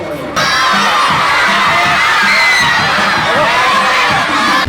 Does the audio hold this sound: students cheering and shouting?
yes